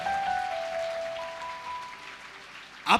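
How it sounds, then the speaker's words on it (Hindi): An audience at a Hindi Christian prayer meeting claps in a steady, noisy wash of applause that fills the whole stretch, with a sharper burst of clapping right at the end. "बजाएं, जोर से ताली बजाएं"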